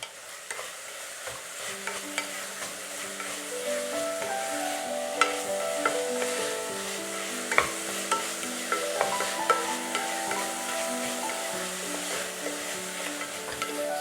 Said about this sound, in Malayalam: നമുക്കിത് നല്ലോണം സോട്ട് ചെയ്തെടുക്കാം